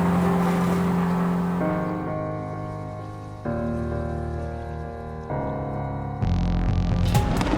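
Subaru rallycross race cars at a Global Rallycross event in New Hampshire launch hard off the line, engines revving loudly with stepped gear changes and sharp shifts in pitch, close and dominant with no speech.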